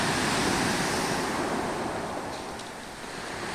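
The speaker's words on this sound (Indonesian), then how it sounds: "Nah, ombaknya alami lagi gitu kan." Ocean waves roll in and break on a beach in a steady, close rushing wash with wind gusting across the microphone. No one speaks.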